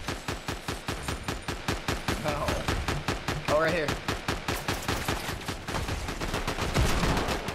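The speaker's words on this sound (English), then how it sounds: "Do you hear the gunfire here?" Rapid, continuous video game gunfire from a Fortnite-style shooter, dense automatic bursts rattling steadily with a brief whooshing effect midway, while a player talks briefly over it.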